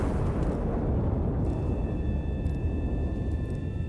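A loud, sustained explosion rumble fills a video game scene after the main lever is pulled, a dense low roar lasting several seconds with steady loudness and faint high tones above it.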